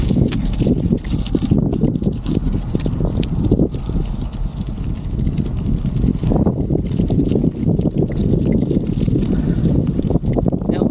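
Strong wind buffets the microphone in a steady, loud low rumble during an outdoor bicycle ride past grassy fields, with faint voices now and then.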